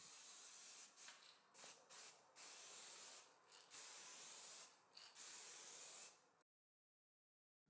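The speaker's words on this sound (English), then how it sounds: "Now I'm going to apply a couple of coats of black spray paint." Black spray paint hisses from an aerosol can in a series of short bursts with brief pauses between them, close and fairly quiet, then stops.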